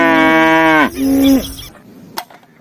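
A cow lets out a loud, close moo, one long bellow that bends downward in pitch and fades out, followed by a faint click.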